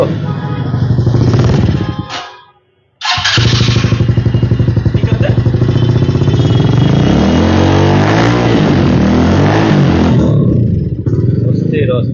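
A GT Excel limited-edition sports motorcycle engine revs hard and close, a steady throttled roar broken by a brief cutout before climbing back through repeated rising revs.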